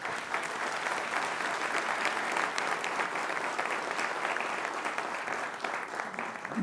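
Sustained applause from the Congress audience at a coffee-sector gathering, steady and dense throughout, with no speech over it.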